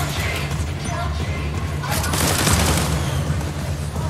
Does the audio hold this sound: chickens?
no